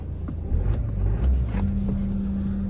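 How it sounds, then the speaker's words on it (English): A Vauxhall Movano / Renault Master van engine starts with a repaired key, giving a low rumbling crank that settles into a steady idle, close and fairly loud. "So it seems to start the vehicle as well."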